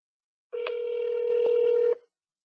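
A single steady telephone dialing tone lasts over a second, clean and close, with faint clicks, before a call to a virtual customer-care agent connects.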